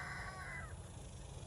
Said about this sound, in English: Baby rooster crows.